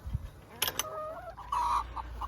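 Chickens clucking close by in a backyard coop, a few short clucks and a drawn-out squawking call, with faint rustling and background noise between them.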